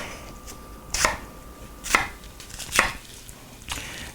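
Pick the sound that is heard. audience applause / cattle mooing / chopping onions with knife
chopping onions with knife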